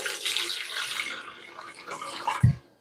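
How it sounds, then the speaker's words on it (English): Warm water pours steadily into a mixing bowl for a rich whole-wheat herb and garlic bread dough, then the pour ends with a soft thump. "That's warm water I've added."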